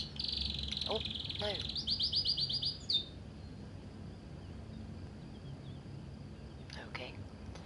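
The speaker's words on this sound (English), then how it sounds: "Oh, I've got a bird. Nice. Let's feed the bird. Good morning, bird." Songbird chirping in the video game Heavy Rain, a bright run of rapid tweets up front, then scattered calls over a low ambient hum, with a brief spoken remark.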